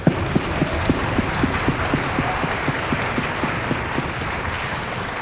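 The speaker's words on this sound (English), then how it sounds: "Let's give them a huge applause for everything they do" Audience applause for the orchestra boosters at a junior high spring concert, a dense sustained wash of clapping with a rhythmic unison clap beating steadily through it, loud and close.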